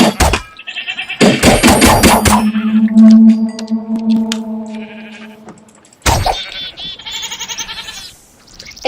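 Sheep bleat in the Minecraft video game, several loud wavering bleats with clanging game sounds mixed in, the calls coming in bursts with short gaps.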